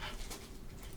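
Dog tearing at a bag indoors, with close panting breaths and a brief rustle mixed with a faint whimper, in a short, busy burst.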